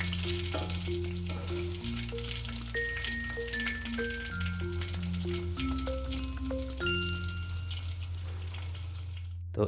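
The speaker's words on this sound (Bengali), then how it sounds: "সো চলেন আর দেরি না করে আমরা ভেজে নিয়ে আসি।" Frozen star-shaped kids' chicken nuggets fry in oil with a soft, constant sizzle that sits under steady background music, with no talking.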